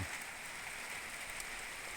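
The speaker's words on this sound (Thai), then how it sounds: "วันนี้ก็ฝนตกแล้วครับตอนนี้" Steady rain falling outdoors at a market stall as the sky darkens, a continuous soft hiss with no distinct drops, moderately faint and uninterrupted throughout.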